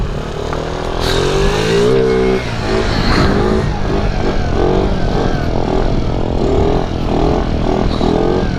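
A cold 50cc scooter engine that is running rough revs loudly and raggedly close by, its buzzing pitch rising and falling in repeated bursts, with voices partly audible underneath.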